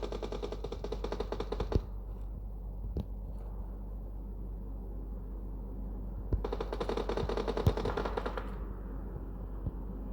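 Automatic weapon fire in the mobile shooter game PUBG Mobile, quick bursts of rattling rounds repeating over a steady game background hum, with sharper single shots standing out; no voices.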